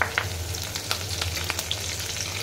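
Cumin seeds and curry leaves crackle and sizzle in hot oil in a pan, with a steady hiss under a few sharp pops and spits, close and fairly quiet.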